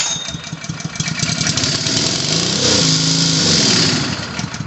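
A Third Lung dive compressor's small engine fires up on a squirt of carb cleaner, sputtering briefly, then catching into a loud, rough running buzz that holds and then begins to fade near the end.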